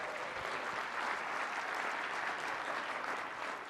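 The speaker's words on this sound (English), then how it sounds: "Give yourselves a round of applause." An audience at a political summit claps in dense, sustained applause, loud and even throughout with no break and no voices standing out.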